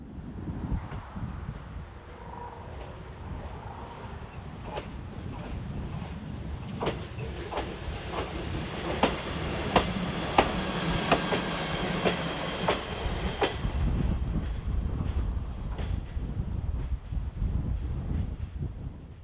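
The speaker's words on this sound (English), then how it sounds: "Unit 813036 arrives, forming the 1031 service from Previtsa" An electric multiple unit train rolls into a station, its rumble building as wheels clack rhythmically over rail joints, with squeals and rattles of the carriages passing close by, steady and moderately loud throughout.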